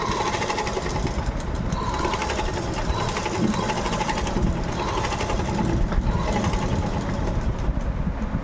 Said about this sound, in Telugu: చిన్న కుట్టు అంటే 2-3 మధ్యలో పెట్టేసి చిన్న కుట్టు వేయాలి